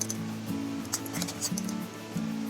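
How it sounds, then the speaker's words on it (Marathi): A spoon clinking against a glass as powder is added for a homemade summer drink, with a few light metallic taps and scrapes close by over soft background music. "मी ग्लास घेतलाय, आता त्याच्यामध्ये मी 3 चमचे पावडर टाकते."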